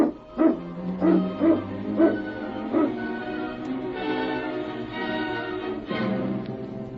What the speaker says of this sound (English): Get the dogs up, King.